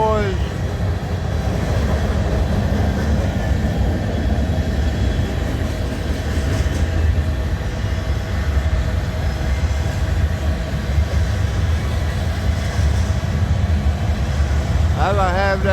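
Loram rail grinder passing on a railway track, a loud, continuous roar and heavy grinding rumble held for the whole stretch, with rail clatter and faint talk underneath.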